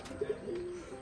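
Caged Rajshahi pigeons give a soft, brief coo, quiet and close, over faint background noise.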